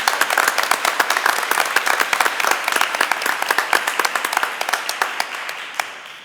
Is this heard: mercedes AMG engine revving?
no